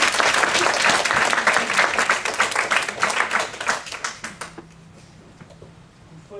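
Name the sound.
spectators applauding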